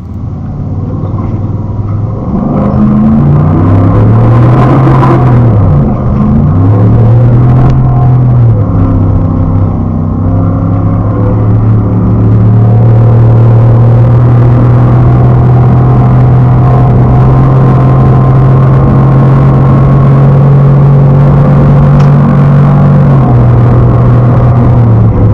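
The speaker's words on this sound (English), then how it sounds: "the stock exhaust on the Ford sounds pretty cool through the dash cam" Ford car with its stock exhaust, captured from inside by a dash cam, accelerating with a loud, steady engine drone that rises in pitch, dips and climbs again, then holds a sustained roar.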